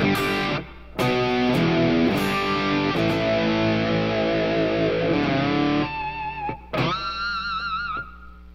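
Electric guitar through a low-gain external overdrive pedal into a Helix plays sustained chords with a thick, crunchy tone, pausing briefly between phrases, then ringing out in a final held chord.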